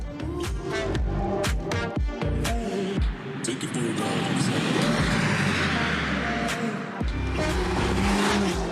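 A V6 sports car accelerates hard along the straights of the Trappes circuit, its engine loud and close with rising revs and gear changes, while a voice talks over it throughout.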